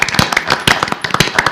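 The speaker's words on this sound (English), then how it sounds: "join me in at least a round of applause" Applause from a group at a school board meeting honouring teachers: a dense, steady patter of many hands clapping at once, close and lively throughout.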